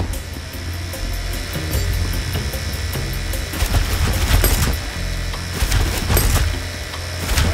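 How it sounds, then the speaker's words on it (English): A heist drill grinds steadily in the video game Crime Boss Rockay City, a continuous whining hum broken by sharp rattling bursts, loud and close with no talk. "We need to accelerate the drill speed."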